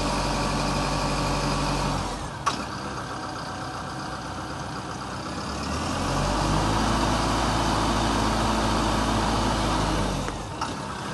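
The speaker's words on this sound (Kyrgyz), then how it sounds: "газ берген кезде кара түтүн чыкпайт, мотор таза бунда." A Zoomlion 1404 tractor engine with about 316 working hours idles with a low, steady rumble, then is revved to a higher, louder drone midway and eases back down near the end.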